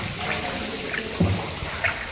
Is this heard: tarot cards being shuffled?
no